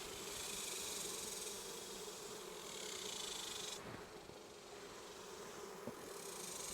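Italian honeybees buzz in an open hive during an inspection, a steady dense hum that holds throughout, dipping slightly in the second half with a couple of faint knocks.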